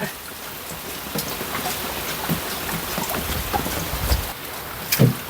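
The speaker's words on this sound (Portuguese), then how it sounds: "A chuva tá assim, ó, gente, alternando. Agora deu uma diminuída." Steady rain falls in a mangrove swamp on a rainy day, a continuous broadband patter of drops close by with a few louder splashes and knocks, no voices.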